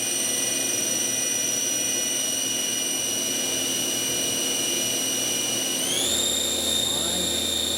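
An engine revs upward through several thousand RPM, giving a steady high whine with strong tonal harmonics that climbs suddenly in pitch near the end. The sound is continuous and fairly loud.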